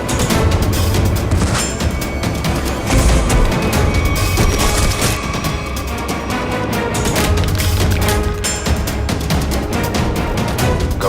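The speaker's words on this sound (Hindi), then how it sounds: "हम लोग तो कबूतर पे गोली चला रहे थे सर।" Gunfire aimed at pigeons rings out in a loud, sustained volley, shots cracking in quick irregular bursts and booming close over a constant noisy backdrop with no talking.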